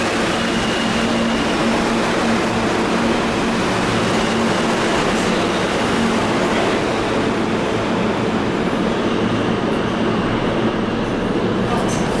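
A New York City subway train rumbles along on its tracks in a loud, constant roar with faint rattling and occasional squeals, and no clear voices over it.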